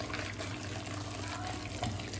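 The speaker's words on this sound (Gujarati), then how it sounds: "આપણે થોડું પાણી એડ કર્યું છે." Water being added to spinach fritter batter (palak gota) in a home kitchen, a steady continuous splashy wash of liquid with a soft mixing texture, fairly close and even throughout, no talking.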